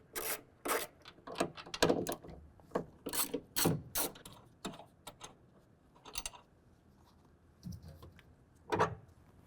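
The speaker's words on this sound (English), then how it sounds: "I've got a ratchet with 13 millimeter socket here." A ratchet with a 13 mm socket loosening truck rack bolts on a 2024 GMC Sierra 1500 bed gives quiet, close, irregular bursts of clicking and rubbing, stopping and starting.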